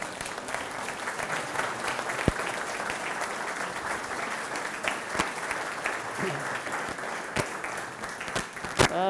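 A lecture audience at a Lenten talk by a priest applauds continuously, a loud, even wash of many hands clapping with a few sharper individual claps and faint voices mixed in.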